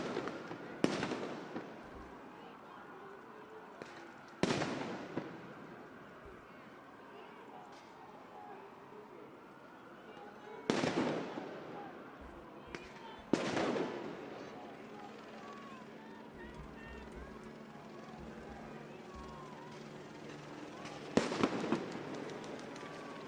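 Police flashbangs go off at a street protest in Los Angeles: several sharp booming blasts spaced seconds apart, loud and echoing, over a steady murmur of a crowd with voices in the background.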